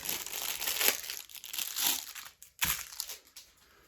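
Plastic parcel bag from a lost Ukrposhta package crinkling and rustling as it is handled during unboxing, a dense, continuous close-up crackle with brief pauses and a renewed burst of handling, no speech.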